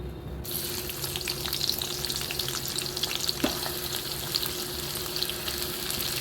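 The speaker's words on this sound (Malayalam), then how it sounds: "ഞാനിവിടെ ഒരു നാല് മീഡിയം സൈസ് സബോള അരിഞ്ഞു വെച്ചിട്ടുണ്ട് ഇതൊന്ന് നമുക്ക് വറുത്തെടുക്കാം" Four medium onions, sliced, fry in coconut oil for Kerala chicken perattu, a steady close sizzle with crackling pops throughout and no voices.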